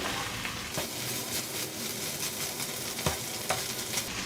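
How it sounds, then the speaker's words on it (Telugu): Prawns and onions stirred and fried together in a pan for an Andhra-style prawn fry: a steady close sizzle with repeated spoon scrapes and clinks, no talking. "నేను ఇప్పుడు ఒక నిమిషం పాటు ఇలా ప్రాన్స్ ఉల్లిపాయ అన్నీ కలుపుకున్న తర్వాత"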